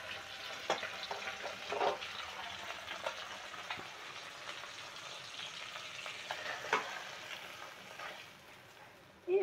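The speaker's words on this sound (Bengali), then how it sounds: "এই অল্প অল্প ভেজে নামিয়ে নিতে হয়।" Bacha fish fry in oil in a pan, a quiet steady sizzle broken by scattered clicks and scraping stirs, ending in a brief louder clatter.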